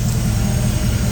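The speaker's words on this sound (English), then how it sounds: "Now it sounds different. The exhaust sounds a lot different. Yeah, it's nice and quiet." A 1963 Chevrolet Impala SS idles with a steady, even exhaust rumble after a carburetor and timing tune-up. The exhaust is quiet rather than droning, holds a constant level throughout, and plays alone with no talk.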